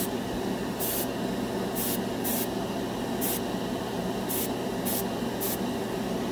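An airbrush sprays Vallejo Mecha Color white paint onto a scale model, a constant close airy hiss broken by several short bright bursts of spray.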